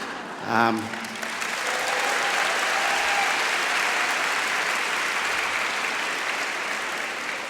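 A brief spoken sound gives way to steady, moderately loud audience applause at a festival event in the Sydney Opera House, the clapping filling the hall evenly and continuing to the end.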